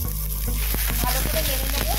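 Whole cumin seeds frying in hot oil with chilli and ginger paste for a vegetarian stuffed aloo dum, giving a loud, close, steady sizzle with crackling pops and the scrape of a spoon stirring through it, and no talking.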